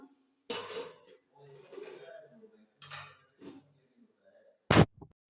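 A lid goes onto a pot of fish curry on a home stove, ending in one sharp, close metallic clank after a few quieter clatters and a faint voice in a quiet kitchen.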